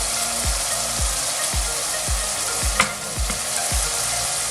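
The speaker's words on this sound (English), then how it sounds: "And I'm gonna give it a good stir, everything, mix it properly." Lamb and vegetable curry sizzles loudly in a pan while a spoon stirs in turmeric, coriander and chili powder, scraping in a steady rhythm of about two strokes per second, with no talking.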